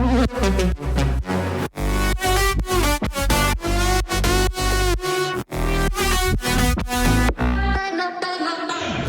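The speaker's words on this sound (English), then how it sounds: "here is what all the instruments without the drum sounds like." A full FL Studio remake of a track with the drums removed: dense layered synths, bass and melodic parts playing steadily and loud, with brief gaps of sudden stops between phrases before a thinner ending.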